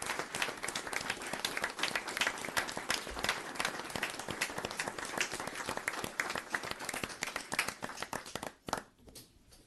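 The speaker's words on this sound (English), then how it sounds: "So I'd ask that you please give these officers a round of applause" A town board meeting audience applauds officers receiving a life-saving award, with dense sustained clapping at steady loudness for about nine seconds, then cutting off and tapering into quiet near the end.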